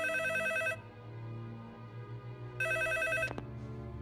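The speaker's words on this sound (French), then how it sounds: "Alors pourquoi le téléphone sonne?" Telephone bell ringing in two electronic bursts, one at the start and another about two seconds later, close and fairly loud over a low background hum, in a dubbed 2017 thriller.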